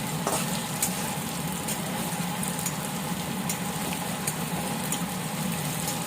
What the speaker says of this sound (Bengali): আর এই যে পনিরগুলোকে একটু লালচে করে ভেজে নেব।